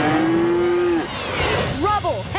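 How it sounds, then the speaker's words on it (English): Cartoon cows on a farm in PAW Patrol give a few short mooing calls near the end. Before that come a sustained tonal whistle-like sound and some background music, with no talk. "But I did find Farmer Al's cows."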